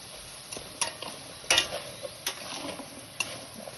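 Onion and chilli tempering crackles in oil in a pan for rasam, a steady close sizzle broken by sharp pops and stirring clicks, with no talk.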